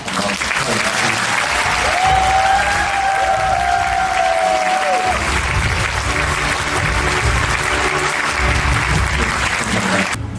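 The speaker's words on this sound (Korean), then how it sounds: "우리 전 직원들 큰 박수로" Company staff at the GA Korea 2022 year-end night give loud, sustained applause, a dense roar of many hands lasting over ten seconds, briefly joined by a high whistle-like tone early on.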